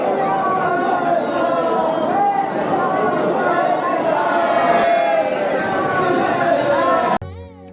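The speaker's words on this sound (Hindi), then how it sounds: "दोस्तों दर्शन हो गया है, काफी ज्यादा भीड़ थी।" Dense crowd chatter at Janaki temple in Janakpur, Nepal, a steady loud wash of many overlapping voices from a waiting throng that runs unbroken for about seven seconds before cutting off abruptly.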